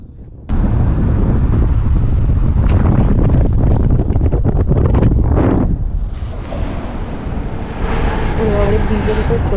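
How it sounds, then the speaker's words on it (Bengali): Strong cold wind gusting across a river bridge in a city downtown, heavy buffeting roar on the microphone that eases for a moment then returns, with faint traffic behind. "ব্রিজের উপর প্রচণ্ড ঠান্ডা হাওয়া।"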